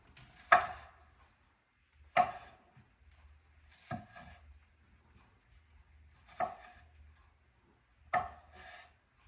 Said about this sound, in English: Just cutting the onion for julienning